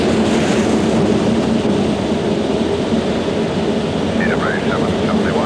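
A Concorde climbing just after takeoff from runway 27 right roars as a loud, steady broadband rumble inside the cockpit, filling the whole clip.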